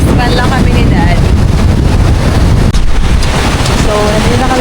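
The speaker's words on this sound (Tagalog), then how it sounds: "Pero malakas pa rin yung hangin." Strong wind at a Boracay beach roars loudly and continuously across the microphone, with waves and surf underneath and faint voices at times.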